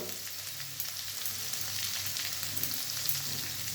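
Cumin and ginger paste sautéing in a pan, a steady soft sizzle with light crackling throughout, heard alone.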